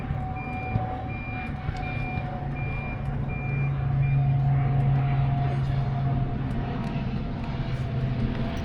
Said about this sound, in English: I kind of hear an airplane. Oh wow, it's really loud.